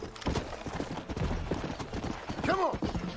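Horse hoofbeats from a Red Dead Redemption game ride, quick clip-clop strikes in a steady gallop rhythm, a brief whinny near the end, with a rider's voice over the top.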